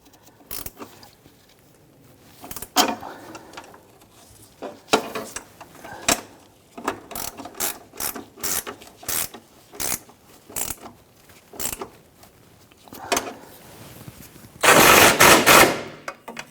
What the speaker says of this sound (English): Now these nuts here, you just want to make sure that they're good and tight.